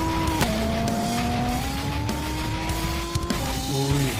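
Old cars in an illegal street race roar past with rising engine pitch and sharp tyre squeals, loud and close, with gear changes breaking the climbing whine.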